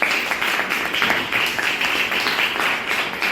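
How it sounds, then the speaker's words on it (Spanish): A secondary-school class claps for a student after a correct answer during oral presentations on Greek mythology: a short burst of dense, even applause filling the room at close range. "Muy bien, un aplauso."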